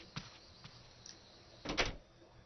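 Apartment door opening in the video game 999, a faint click early, then a louder two-part creak and thud of the door swinging, alone and close.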